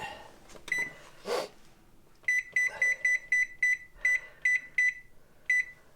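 A kitchen oven timer beeps while Hello Dolly squares bake: a couple of early chirps, then a steady run of about ten short, bright, evenly spaced beeps, clear and close in a quiet room with no talking.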